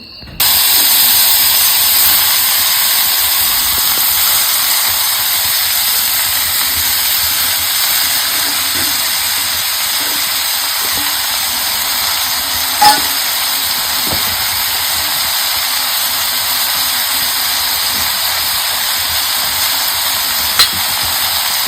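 Vegetables dropped into hot oil in a pan for a dried fish dish, giving a loud, continuous close hiss and sizzle that holds steady throughout, with a couple of brief sharp crackles.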